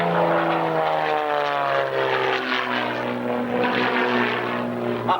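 Propeller aircraft from an aerobatic display team flying rolls and flicks at the 1996 Middle Wallop air show, a loud sustained engine drone with shifting pitch as the plane climbs and turns, fairly close and without voices.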